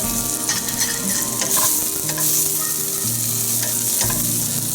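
Olive oil hisses in a hot pan as stir-fried vegetables, broccoli and mushrooms, cook, with a dense, loud sizzle and occasional scraping stirs close by.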